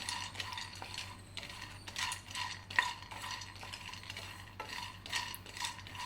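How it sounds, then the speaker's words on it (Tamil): Almonds dry-roast in a pan over a low flame, giving repeated light rattling scrapes and clicks as they are stirred, quiet and close. "பாதாம் வந்து லோ ஃப்ளேமில் வச்சுட்டு 2லேருந்து 3 நிமிஷம் இதை நல்லா நம்ம வறுத்துக்கலாம்."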